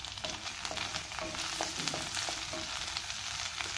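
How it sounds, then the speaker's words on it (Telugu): Potatoes fry in oil in a pan for palakura pappu curry, a quiet but continuous crackling sizzle with light intermittent stirring scrapes and no speech. "ఇప్పుడు ఆలు కూడా వేసి ఒక 2 మినిట్స్ బాగా ఫ్రై చేద్దాము."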